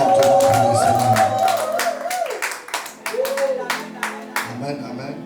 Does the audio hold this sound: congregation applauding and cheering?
yes